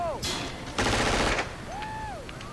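Burst of gunfire from a TV drama scene of the series Lost, a loud dense rattle lasting about half a second, framed by brief voices and tonal sound effects before and after.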